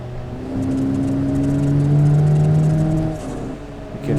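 A Dacia Sandero RS engine in a racing video game drones steadily on a hillclimb with a shifting, wavering pitch as traction control cuts in, loud and close, without speech.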